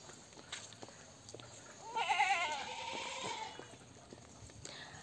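A goat bleats once in a wavering call at moderate distance, rising out of faint outdoor background noise and trailing off.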